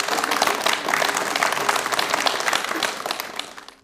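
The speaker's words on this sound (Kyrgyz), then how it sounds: "Көрүүчүлөрдүн бардыгысы Элдин баары кол чабып ийиптир." Audience clapping for a singer and komuz player on a TV talent-show stage, dense sustained applause from a large crowd that holds steady and then starts to fade toward the end.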